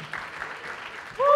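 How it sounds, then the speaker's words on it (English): Audience applause for entrepreneurs at a pitch day, a brief burst of clapping with a cheer, quickly joined by a voice at the end. "Give them another round of applause"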